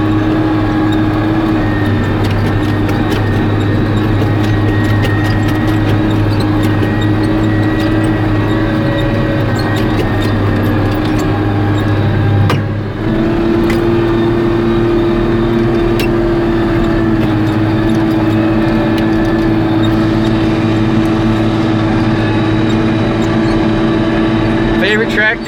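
A 1982 John Deere 4440 tractor chisel plowing a manure-spread field, its engine droning steadily and loud from inside the cab with a brief dip midway, while someone talks over it.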